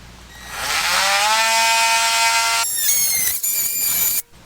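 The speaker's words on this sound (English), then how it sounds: "I'm going to cut on the right side of my line here that I marked, because I don't want a gap on that trim piece" A power blade cuts along a marked line on RV trim during a MORryde Safe-T-Rail install, a loud, close whine that climbs in pitch, holds steady, then cuts off abruptly.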